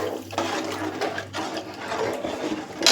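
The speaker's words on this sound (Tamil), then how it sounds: "அடுத்தது இந்த மிக்ஸி ஜார் அலசி தண்ணி வச்சுருக்கேன்." Rinse water from a mixer jar is poured into a cooking pot in a home kitchen, giving several close splashing, gurgling pours with short breaks between them and no talk.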